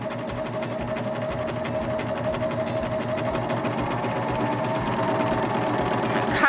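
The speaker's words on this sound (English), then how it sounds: "So we're going to stitch to the end." A Baby Lock Vibrant sewing machine stitches fabric in a continuous, close, rhythmic whir of rapid needle strokes that holds steady for several seconds, with a brief click at the end.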